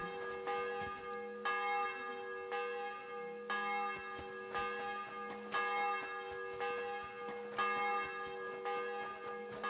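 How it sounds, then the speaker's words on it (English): Church bell in the Kingdom Come Deliverance 2 video game tolls steadily about every second and a half for ten seconds, loud and ringing, with sustained overtones and no talk over it. "The bell's ringing for Hans the 5th time."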